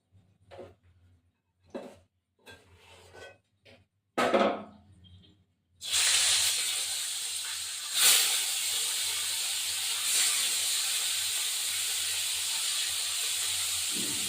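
Fish marinated with salt and turmeric goes into hot oil. A few scattered knocks and clatters are followed by a loud, steady frying hiss that continues to the end.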